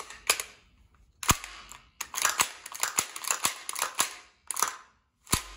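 Gas blowback airsoft gun slide racked back repeatedly, about a dozen sharp metallic clacks and snaps in irregular bursts, close and crisp with short quiet gaps between them.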